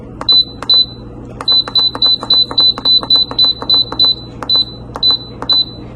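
An electric pressure cooker timer beeps while yakhni pulao cooks, a run of sharp, high, evenly spaced electronic beeps in quick groups, loud and close over a low steady hum, with no talking.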